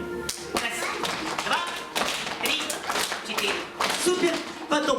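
Children stomp and clap in a steady rhythm along to a song in a piano-department music class, with a dense patter of taps and thuds under voices.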